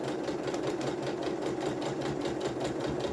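Sewing machine stitching a zigzag buttonhole on a dungaree or dungadress garment, a fast even mechanical whirr with a rapid needle rhythm, close and continuous with no talk.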